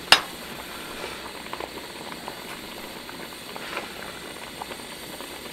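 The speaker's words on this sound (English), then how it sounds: "just let them simmer teeny bit more" Foraged chokecherries simmer in a steaming pot outdoors on a cool, damp day, giving a soft, continuous bubbling with scattered pops and one sharp click at the start.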